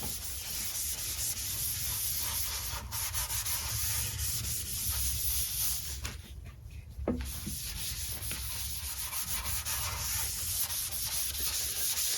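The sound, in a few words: rubbing finish into hardwood bench with Scotch cloth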